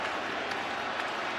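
A crowd at a Dodgers versus Blue Jays World Series game in a baseball stadium roars and claps in a dense, loud, sustained wash of noise that fills the whole short stretch.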